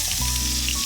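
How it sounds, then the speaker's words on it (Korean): The uncooked side of bone-in sirloin is set into a hot pan over medium heat and sizzles loudly and steadily at close range for a brief moment, with no talking. "중불로 안 익은 면을 올려서."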